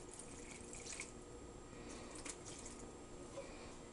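Saved pork cooking juice is poured back into a slow cooker of pulled pork, a faint, steady liquid trickle and splash lasting a few seconds with no talking.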